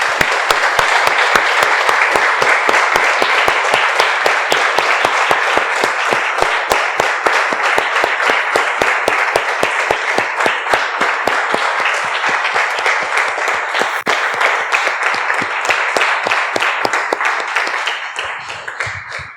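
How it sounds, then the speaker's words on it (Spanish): A church congregation claps together in a long, loud, dense round of applause that holds steady for nearly twenty seconds before tapering off at the end. "Damos un aplauso, hermano."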